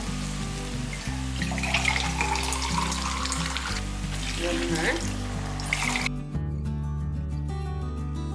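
Water pours and splashes steadily into a cup in a kitchen, about 2.5 cups measured out, fairly close, then stops, leaving a quieter hum underneath.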